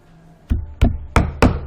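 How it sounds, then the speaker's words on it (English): Four sharp knocks on wood land in an irregular sequence, each a close, loud, dry thud. "knocking on wood"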